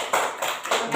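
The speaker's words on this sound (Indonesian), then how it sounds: "Tepuk tangan." A classroom of students clapping hands in a few quick rounds, a short sharp patter of applause close to the recorder.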